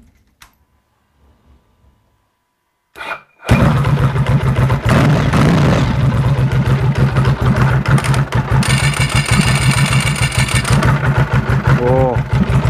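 A Ducati 900SS motorcycle engine with a modified clutch starts up after near silence, then settles into a loud, steady rumbling idle with continuous close mechanical clatter.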